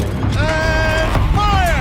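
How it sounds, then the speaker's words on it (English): Turret rotating mechanism in Horizon Zero Dawn, a loud whining, creaking mechanical groan with sliding pitch that repeats twice over a low rumbling background, with no talking. "Rotate turret!"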